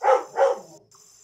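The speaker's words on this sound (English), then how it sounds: "my dog was barking" A dog barks twice in quick succession, close and fairly loud, with a short tail of fading sound afterward and a faint high tone in the background.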